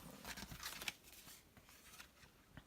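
Scissors snip through card in a few close, crisp cuts clustered early, followed by quieter rustling of paper with no one speaking.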